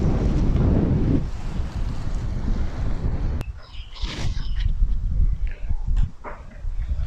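Wind blusters at the Bueng Kluea lakeside, a loud broadband rush buffeting the microphone that eases after a few seconds into softer gusts with faint water and background sounds.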